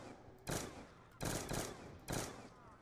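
Gunfire in Call of Duty Black Ops 2 on the Buried zombies map, three loud bursts of shots spaced about a second apart over a low game background, with no talk.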